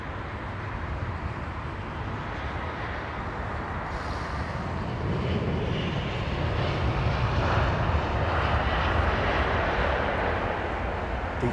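Jet aircraft engines at London Heathrow Airport hold a steady, broad roar with a slight swell partway through. The sound is continuous and fairly close, and no one talks.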